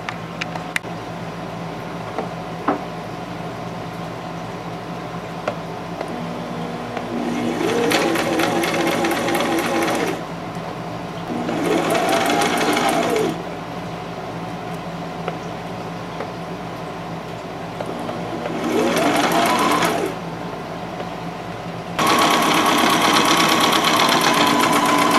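A sewing machine sews fabric ruffles for a costume in four separate loud bursts of whirring stitching, each a few seconds long with quieter gaps of room hum between them.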